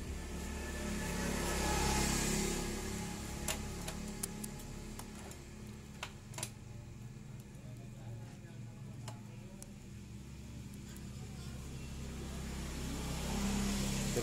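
A carburetted Honda Beat scooter is kick-started and its small engine idles steadily at close range, with sharp ticking clicks scattered through the running.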